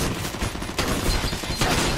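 Rapid bursts of gunfire crackle throughout, dense and continuous with heavy booming low end, like an intense firefight in a shooter game.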